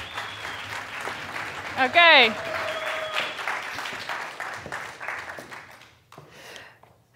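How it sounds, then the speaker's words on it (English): Applause for three finalists at a grand finale event, a broad crowd clapping that rises after a brief spoken word and holds steady across the stretch, with a bright tonal swoop briefly cutting through. "Can I give once again a big round of applause for our 3 finalists?"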